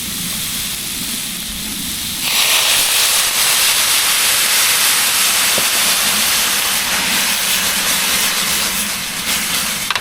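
Tequila hitting a pan of softened, lightly browned garlic, bursting into a loud, steady sizzle and hiss that runs on without pause.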